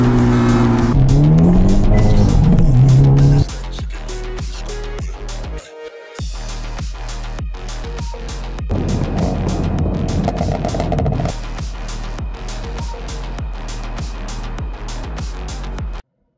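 Turbocharged Hyundai N car running on low boost, engine roaring loudly and steadily as it accelerates, with gear-change dips and brief tire-squeal-like tones, no talking over it.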